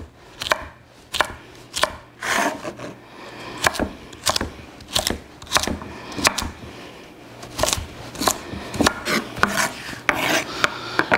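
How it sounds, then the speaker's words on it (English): A kitchen knife dices carrot sticks on a cutting board, a steady run of crisp, close chopping knocks in an even rhythm, with no talking. "now we've got a nice quick pile of diced carrots"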